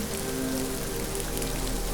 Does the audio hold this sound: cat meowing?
no